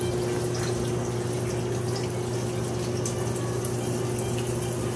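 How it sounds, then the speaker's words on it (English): Tap water runs steadily into a cooking pot for boiling egg-yolk extra-broad noodles in a home kitchen, a continuous close hiss and rush with a low pump-like hum underneath and no talking. "Now for the water."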